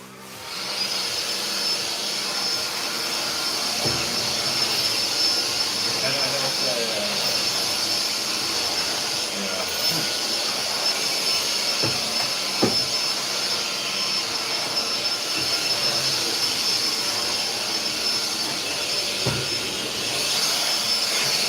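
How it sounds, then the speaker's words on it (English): A household vacuum cleaner runs close by with a loud, steady whine and rushing airflow that holds unbroken for the whole stretch, with a few faint knocks and bumps underneath. "I need to vacuum."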